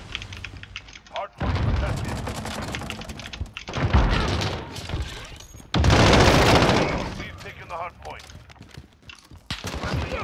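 In the shooter Modern Warfare 2019, heavy blasts and rapid gunfire come in loud bursts with shattering and thudding impacts, separated by quieter gaps, and someone talks between and over them.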